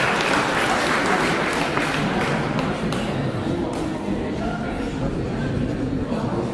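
Applause for a teenage bench press competitor at a county powerlifting contest, crowd clapping in a reverberant hall, moderately loud and steady, with voices murmuring underneath.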